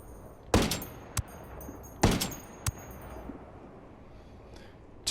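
Two sharp M110 sniper rifle shots fired in the video game Ghost Recon Wildlands, each a loud crack with a short decaying tail, about 1.5 seconds apart, followed by fainter thuds and quiet ambience.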